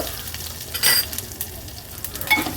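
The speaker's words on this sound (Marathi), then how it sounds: "फोडणी व्यवस्थित मिक्स करून घ्यायची आहे." Chillies, garlic cloves, curry leaves, cumin and a pinch of asafoetida sizzle in hot oil for a Maharashtrian tempering, with a steady close crackle, scraping stirs and a brief louder burst near the start.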